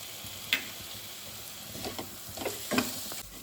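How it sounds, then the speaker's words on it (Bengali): Chopped tomato added to ginger, garlic and green chili in a pan, giving a quiet, steady sizzle with a few sharp clinks of a spatula, for a ghugni of chickpeas. "আদা রসুন কাঁচা লঙ্কাটা খুব ভালো করে ভাজা হয়ে গেছে, এই সময় আমি টুকরো করা টমেটোটা দিয়ে দিচ্ছি।"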